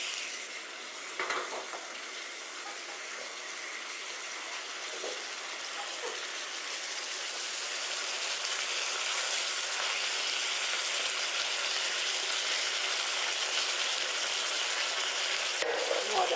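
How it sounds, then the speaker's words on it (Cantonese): Tofu sizzles steadily in a hot pan as it fries, a dense, continuous crackle that grows slightly louder over the stretch, with occasional brief clicks of utensils. "咁而家煎起上嚟呢"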